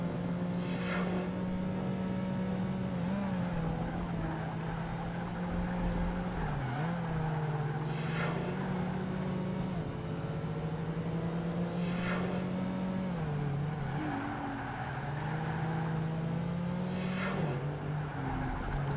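An Aston Martin race car engine drones steadily in Project Gotham Racing 2, a sustained loud tone that dips with each gear change and climbs again, shifting rhythmically several times while accelerating along straights.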